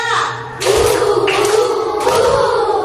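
Students in a classroom clap in rhythm to a counted chant, with three distinct bursts of group clapping rising over a continuous spoken voice, close and moderately loud.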